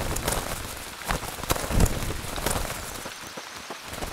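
Steady rain pours down in the survival shooter game ZERO Sievert, a dense hissing wash with scattered louder drop impacts and brief thumps, continuous and fairly close throughout.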